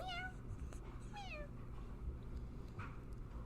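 A cat sitting on someone's lap lets out two rising meows close by, then a softer chirp. A faint low purr or hum continues quietly underneath.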